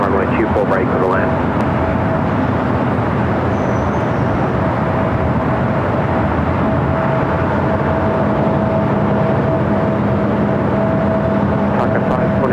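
A jet airliner landing on runway 24 right at LAX, a steady broadband roar with a sustained engine whine, loud and continuous throughout, heard under radio and commentary voices.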